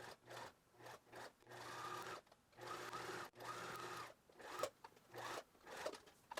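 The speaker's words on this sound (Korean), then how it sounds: "그러고 재봉틀로 박아주도록 하겠습니다" A sewing machine stitches a reversible winter hat through thick seam allowances, running in short rhythmic bursts of rapid needle chatter separated by brief pauses, close and clear.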